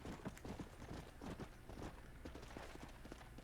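Horse hooves clopping steadily in Red Dead Redemption, a dense run of rapid hoofbeats close up over constant outdoor game ambience, no talk.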